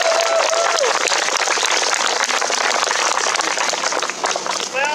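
A crowd applauds Dr. Dick Bennett at an Indigenous Peoples' Day gathering in Fayetteville, Arkansas, with dense, steady clapping that fills the whole stretch at full loudness.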